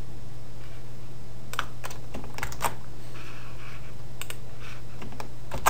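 Computer keyboard keys tapped and mouse clicks while selecting and copying spreadsheet cells, sparse irregular clicks over a steady low hum, fairly quiet and close.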